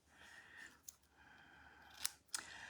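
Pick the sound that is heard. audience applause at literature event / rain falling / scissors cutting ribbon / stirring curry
scissors cutting ribbon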